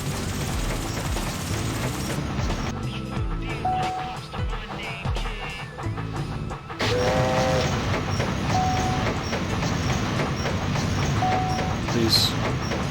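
The Ghost Train in a video game rolls on its turntable with a steady rumbling, clattering rail sound and repeated short whistle-like tones, loud and continuous, getting slightly louder partway through.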